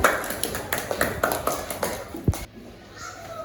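Students in a classroom give a short round of clapping for a classmate, sparse and rhythmic, with individual hand claps standing out before stopping abruptly near the end.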